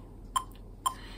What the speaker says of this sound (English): With my metronome it sounds like this.